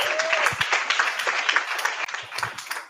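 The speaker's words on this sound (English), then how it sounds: "Let's give a huge round of applause to Paige." Audience applause at a Google tech event on AI, steady dense clapping from a crowd filling the room, with a few scattered cheers and voices mixed in.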